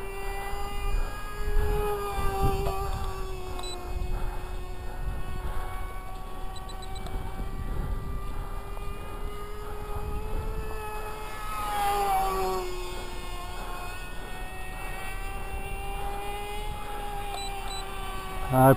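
A nitro .07 RC car engine converted into a Skorch II model plane, spinning an APC 5x3 propeller at a rich setting, drones steadily at a high pitch for the whole stretch, wavering slightly in tone partway through.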